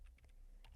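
Several quick keystrokes as a Linux terminal command is typed on a computer keyboard, soft close clicks in a brief burst over faint background hum.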